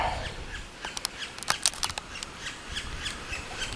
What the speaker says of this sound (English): Birds are making all kinds of racket.